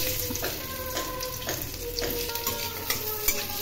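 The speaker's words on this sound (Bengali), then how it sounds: "এখন এর মধ্যে আলুগুলো ভেজে নেব" Potatoes fry in hot oil in a kadai with dried red chilli, bay leaf and cumin, a steady close sizzle broken by soft periodic stirring scrapes.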